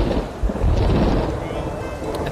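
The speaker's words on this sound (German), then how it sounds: "Das Gewitter ist laut." Thunder from a storm in the Red Dead Redemption video game, a loud, sustained rolling rumble with a hissing rain-like wash continuing throughout, while a voice speaks faintly underneath.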